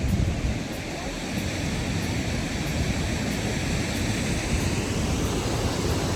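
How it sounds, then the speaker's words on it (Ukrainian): A loud, steady roar of rushing water, constant and broadband, from a torrent pouring over a nearby dam that holds mountain runoff near Nosal mountain in Zakopane. "Зараз вода буде шуміти, але дуже гарно трохи вам покажу."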